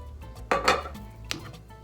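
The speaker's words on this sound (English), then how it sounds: "And we start mixing." Rotini pasta salad dressed with champagne vinaigrette is stirred in a bowl, giving a few brief clinks and scrapes of utensil against dish, fairly faint, with no talking.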